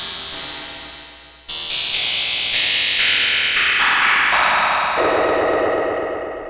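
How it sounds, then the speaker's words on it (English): Noise source on a vintage hybrid synthesizer, either an Ensoniq SQ-80 or a Korg DW-8000: loud, continuous hissing noise that shifts in tone in clear stepwise jumps, with no talking. "I think we do have something that's closer to like white noise"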